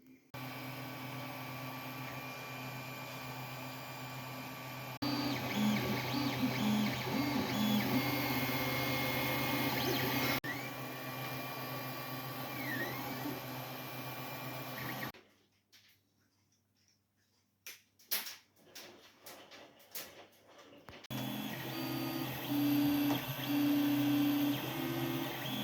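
A 3D printer runs through a long job printing two cup holder parts for a Ford Escort MK1 restoration, a steady mechanical whir with stepper-motor tones and sliding pitch sweeps, pausing for a few seconds of near silence with scattered clicks before resuming.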